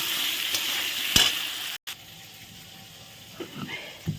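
Onion, garlic and tomato fry in a pan with a steady broadband sizzle that holds throughout, with a couple of brief stirring knocks and a short dropout midway.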